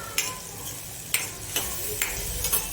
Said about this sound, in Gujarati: હવે બધું આપણે મિક્સ કરી દઈએ